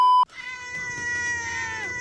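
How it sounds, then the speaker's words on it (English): A cat meows steadily in a drawn-out, tonal cry lasting under two seconds, loud and close, following a brief sharp electronic beep at the start. "Why are you meowing?"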